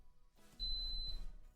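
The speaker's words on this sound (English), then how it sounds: "And then beep." A single clear electronic beep, a steady high tone lasting about half a second against quiet background, while testing custom Lamborghini Gallardo tail lights.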